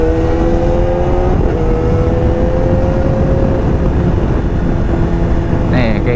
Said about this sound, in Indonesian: bahasa awamnya geber sedikit buat nurunin gigi gitu